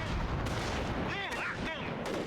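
An artillery barrage in a war video game, a continuous roar of distant blasts and rumbling that stays loud and dense for the whole stretch.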